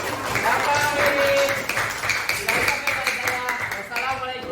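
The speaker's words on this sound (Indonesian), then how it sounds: "Kita tepuk tangan untuk keyakinan kelas yang telah kita buat." A class of schoolchildren claps hands together in a school setting, a dense, steady patter of many hands that stays fairly loud throughout, with voices chattering and calling out over it.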